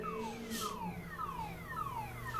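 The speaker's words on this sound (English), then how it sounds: "You set up every car alarm" A car alarm wails in a repeating falling-pitch cycle, several sweeps in quick succession, moderately loud and unbroken.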